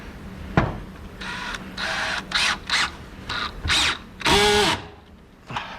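A cordless drill driving screws into a night stand body, short whirring bursts of varying length with a click and thump at the start, clearly heard close up with no talking.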